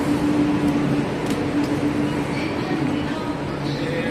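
A metro train in Chennai rumbles steadily, a loud constant roar with a faint tonal hum inside the carriage, no clear voices over it.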